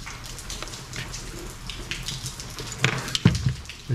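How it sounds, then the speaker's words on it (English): Steady patter of rain on a car roof with scattered drops, heard from inside, plus a few louder knocks near the end. "So as you can hear, probably it's raining outside, and we're inside the car."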